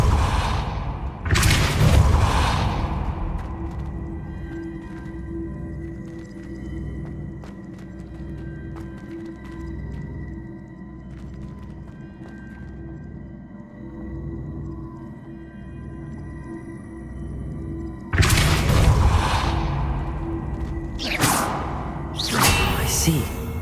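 A Depulso spell cast in Hogwarts Legacy lets out sharp, loud whooshing bursts, one near the start and a cluster near the end, with quieter game ambience humming between them.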